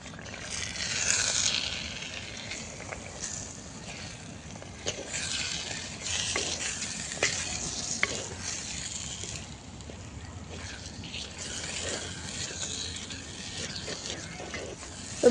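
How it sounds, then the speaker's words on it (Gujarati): Eggplant mash for a Gujarati-style bharta being stirred and fried in a pan, a soft continuous sizzle with scraping and occasional clinks of the spoon, steady and close throughout. "તો હવે આપણે ફેરવી લઈશું."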